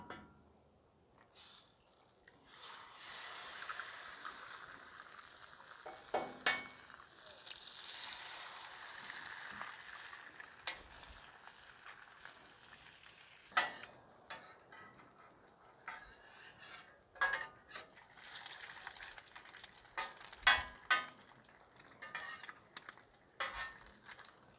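Bacon frying on a Blue Rhino Razor outdoor griddle: a soft, steady sizzle with intermittent scraping and metallic taps of a spatula, fairly quiet and close.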